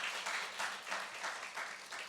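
Congregation applauding at a Sunday church service, a dense steady clapping that swells and ebbs in waves throughout, moderately loud with no clear talk over it.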